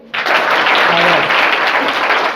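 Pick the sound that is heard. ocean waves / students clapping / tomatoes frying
students clapping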